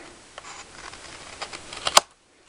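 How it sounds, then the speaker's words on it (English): Scissors snip excess paper grass off a handmade Easter card, a series of close, crisp cutting clicks that build to a sharp final snip, then silence. "all I'm going to do is take a pair of scissors"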